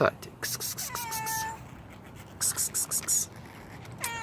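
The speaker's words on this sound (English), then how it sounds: "Here's my cat." A pet cat meows several times in short, bright bursts that come in two clusters with quiet gaps between them, close and fairly soft against a low background hiss.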